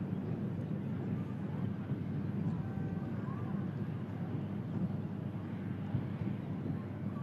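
An EasyJet airliner departs for Paris Charles de Gaulle, its engines giving a steady, broad roar that stays at an even level throughout, with some wind noise at the microphone.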